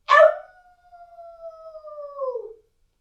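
A single voice imitates a red wolf howl, starting with a sharp yelp and then sliding into one long, steady, slowly falling wail that trails off after about two seconds.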